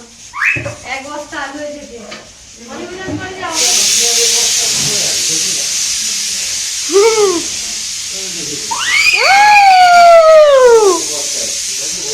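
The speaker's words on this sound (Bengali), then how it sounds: "খাসির টেংরি সেদ্ধ হচ্ছে প্রেশার কুকারে" A pressure cooker boiling goat leg lets out a loud, steady steam hiss that begins partway through and continues, with whistling tones near the end and voices talking over it early on.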